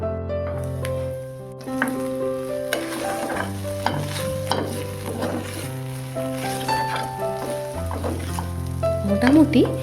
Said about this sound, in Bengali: ভালো করে মিশিয়ে ঢাকা দিয়ে কুক করব।